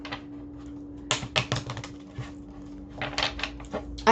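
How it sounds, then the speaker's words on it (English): Tarot cards shuffled by hand in a few quick riffling bursts with pauses between, close and fairly quiet, over a steady low hum. "Alright, one more shuffle."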